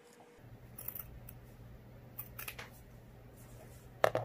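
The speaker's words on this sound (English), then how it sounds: "I'm just gonna cut my piece directly on the line" Scissors snipping through an appliqué fabric piece for a garden archway art quilt, a few quiet close cuts spread out over a low background hum, with a sharper louder snip near the end.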